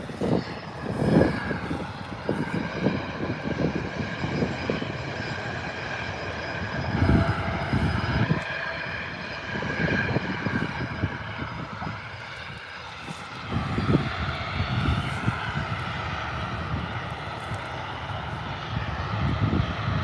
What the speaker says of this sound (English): So now that Qantas 737 will be next aircraft to leave.